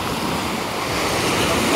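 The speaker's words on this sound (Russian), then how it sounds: "Сегодня море не волнуется." Sea surf rolling onto a beach, a steady loud wash of waves mixed with wind rumble on the microphone, continuous throughout.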